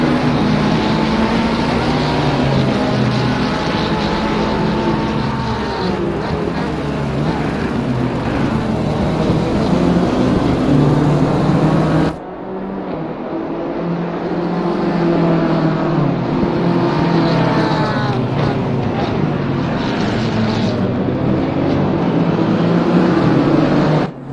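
A Porsche GT3 race car engine roars loudly as it accelerates around the Misano circuit during a Caribbean GT3 Championship race, with rising pitch sweeps through the gears and a brief cut midway before the sustained howl resumes.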